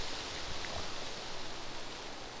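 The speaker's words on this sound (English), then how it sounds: "Oh, crap, it's raining." Steady rain falling in the DayZ video game, a continuous broadband hiss that holds evenly throughout with no pauses.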